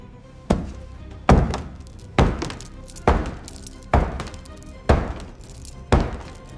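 Heavy thuds against a door at a school during a lockdown horror story, seven hard knocks spaced roughly a second apart, each ringing out briefly, loud and close.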